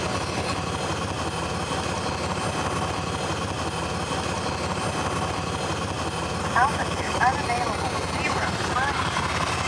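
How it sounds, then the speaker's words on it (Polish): Steady, loud engine and cabin drone inside a Cirrus Vision Jet personal jet on a Warsaw to Poznań flight near Poznań Ławica airport, continuous throughout with a couple of brief tonal chirps near the end. "mamy Vision Jetta, czyli najbardziej pożądany osobisty"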